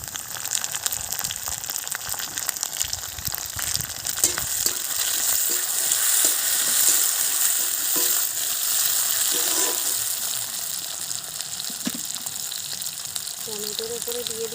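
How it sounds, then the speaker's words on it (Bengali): Onion and spices frying in a pan for a village-style fish curry, a steady dense sizzle throughout with occasional stirring scrapes, fairly close and loud, with no voices. "পেঁয়াজটাকে ভেজে নেব, নিয়ে তারপরে টুকটুক করে সব মশলাগুলো দেব"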